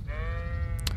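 A single drawn-out sheep bleat from the video game Kingdom Come, wavering and fairly loud, over a low rumbling background with a brief bright click near the end.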